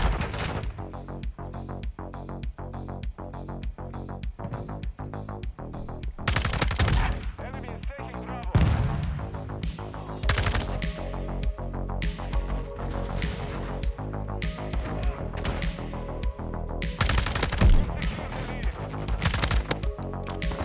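Rapid automatic fire from an FSS Hurricane in Modern Warfare 2 crackles in long loud bursts, broken by short pauses and sharp impact clatter over busy game sound.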